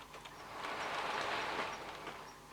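A model train with Mark II coaches and a Mark III DVT rolls slowly round a layout, giving a soft, steady rumble with faint rhythmic clicking from the wheels, low in level and without speech.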